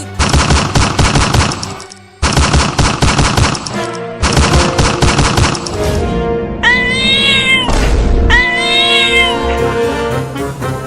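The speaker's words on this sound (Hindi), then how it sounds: "चिंटू, ये बिल्ली बंदूक कैसे चला रही है?" A cartoon cat fires a gun in rapid bursts of loud, rhythmic shots, broken by short pauses, then gives way to drawn-out, wavering meows.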